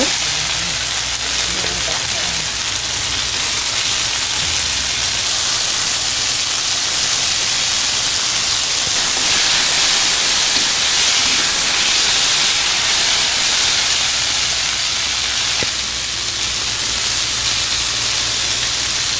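Fish fries in hot oil in a pan in a village kitchen, a loud, continuous close sizzle and hiss that fills the whole stretch with little change.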